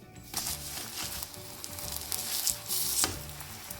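Paratha roti frying in oil on medium heat, giving a steady, close sizzle and crackle that swells and subsides over a few seconds, with no talking.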